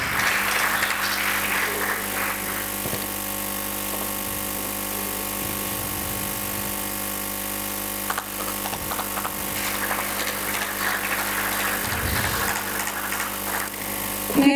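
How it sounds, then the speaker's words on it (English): Applause from an audience at a medical conference in a hall, a dense, steady wash of clapping that fills the whole stretch at an even loudness, with no voices over it. "A big round of applause, please."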